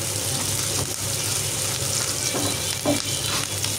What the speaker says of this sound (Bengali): লবণ দিয়ে একটু নাড়াচাড়া করে নিচ্ছি।